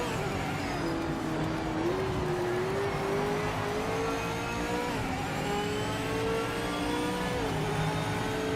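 A Porsche race car in the racing game Project Motor Racing, its engine droning steadily with rising and falling revs as it races on track, loud and continuous throughout with no voices.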